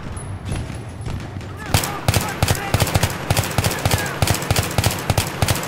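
M16 rifle fire in Battlefield 3, delivered as rapid bursts of loud, close shots in a steady rhythm that continue through most of the clip.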